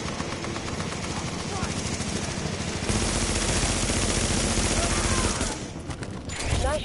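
Rapid, continuous automatic gunfire in a video game fills the scene, loud and dense, with sustained rattling volleys that ease off briefly near the end. Voices mix in underneath.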